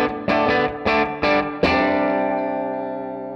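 A 1966 Fender Mustang electric guitar, played through a Strymon Flint reverb and a Silvertone 1484 amp, strums four quick chords and then a final one that rings out in a long, reverberant decay, loud and close.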